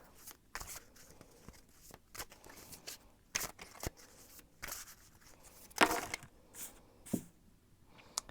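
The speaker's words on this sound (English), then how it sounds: "I'm going to shuffle and see what the cards have to say" Tarot cards being shuffled by hand, a series of soft papery riffles and slaps in uneven bursts, fairly close and quiet, with one louder flurry near the middle.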